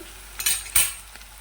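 Onion pieces cook in a pan while being stirred, with two sharp scraping strokes of a utensil against the metal over a soft, low sizzle.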